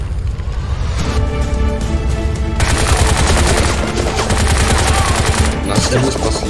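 Rapid automatic gunfire from the first-person shooter video game Bright Memory Infinite, loud continuous bursts of shots rattling one after another with no pauses.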